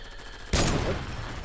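A single sharp, loud gunshot cracks out in Fortnite Battle Royale and then fades quickly into a low ambient wash.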